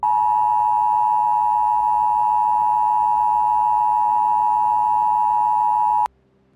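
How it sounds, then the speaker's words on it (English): A steady, piercing electronic alarm tone holds loud and unbroken for several seconds, then cuts off abruptly. "opens with an emergency alert and a very anxiety-inducing alarm"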